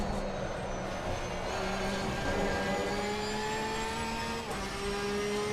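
A race car engine in the Assetto Corsa Competizione racing game, in a community race, climbs steadily in pitch as it accelerates. A brief shift dip comes late in the moderately loud, continuous engine tone.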